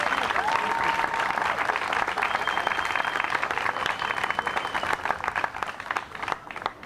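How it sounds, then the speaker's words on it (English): Sustained audience applause at an outdoor infrastructure celebration, a steady dense wash of many hands clapping with a few faint whistles, continuing evenly throughout. "Let's give these organizations a round of applause."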